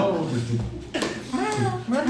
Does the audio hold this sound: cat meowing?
yes